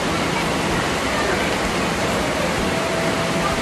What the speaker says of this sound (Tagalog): Hawakan mo yung ulan